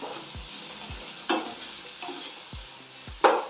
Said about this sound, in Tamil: அது வதங்கிட்டு இருக்கட்டும் வெங்காயம் வதங்கிட்டு இருக்கட்டும்